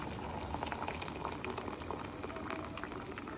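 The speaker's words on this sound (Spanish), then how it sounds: "Aquí tengo el agua hirviendo porque le voy a poner agua hervida" Water boiling in a pot on a home stove, a steady close bubbling and hissing rumble that holds evenly throughout with no one speaking.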